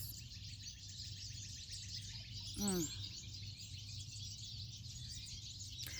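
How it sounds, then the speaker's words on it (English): Birds chirp and tweet steadily in the background over a low hum, with one louder, closer call standing out midway. "Can y'all hear these birds?"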